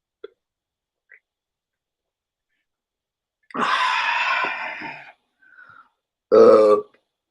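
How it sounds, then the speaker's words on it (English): A person on a podcast burps loudly twice, a long drawn-out belch followed by a shorter, sharper one after a brief pause, close to the microphone in an otherwise quiet room. "I just burped a lot, actually."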